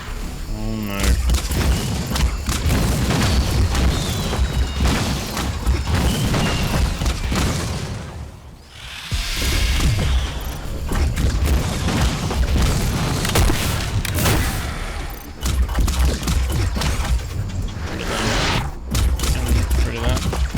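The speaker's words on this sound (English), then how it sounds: "Oh yeah, they explode. At least they explode each other." Enemies blow up in Luna Abyss, heavy repeated explosive booms and bursts layered over dense game noise and music, nearly continuous with a brief lull midway, while a person talks over it.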